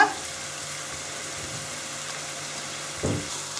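Carrot, mushrooms and onion fry in a pan with a soft, even sizzle. A faint clunk comes near the start and a louder one near the end, with no speech.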